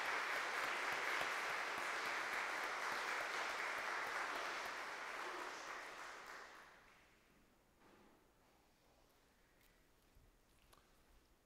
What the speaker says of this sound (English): give them a round of applause to show our support in that way